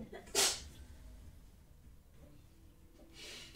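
A single sharp sneeze bursts out near the start, loud and close, then quiet room tone follows with faint breathy noise toward the end.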